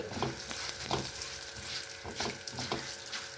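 Cumin and urad dal sizzle and crackle in a pan as they are sautéed, a busy continuous frying hiss with repeated scraping stirs and no talking.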